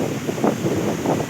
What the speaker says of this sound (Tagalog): malakas pa rin ang hangin dito